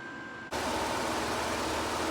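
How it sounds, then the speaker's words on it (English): A loud fan drying out a damp basement kicks on abruptly after a quiet moment, then runs as a steady, dense broadband whoosh that stays constant to the end. "I know the fan is loud."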